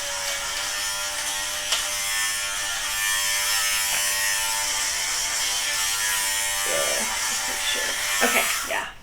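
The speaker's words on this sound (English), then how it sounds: "it's really easy to just get rid of them with a sweater shaver" A small battery sweater shaver buzzes continuously as it skims lint balls off a piece of clothing, a steady close whir with faint rasping, followed near the end by brief handling sounds and a voice.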